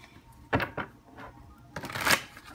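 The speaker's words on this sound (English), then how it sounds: "So let me shuffle, okay?" A few crisp riffling bursts of cards being shuffled close by, two short ones then a longer flurry, with quiet gaps between.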